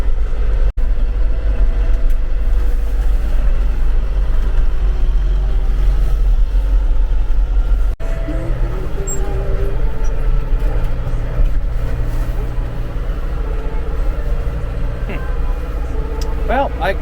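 A tractor plows snow along a farm lane, a steady low engine rumble throughout with some scraping and clanks, while a person talks over it.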